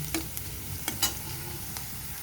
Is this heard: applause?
no